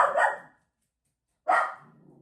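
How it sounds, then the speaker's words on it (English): A dog barks twice up close, two short sharp barks separated by about a second of silence. "Hey, Mac, you don't need to bark, bud."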